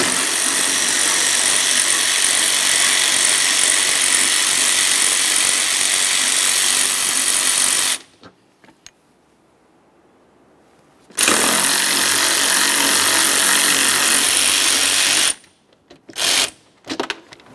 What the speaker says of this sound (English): Let's get these 10mm bolts out of here.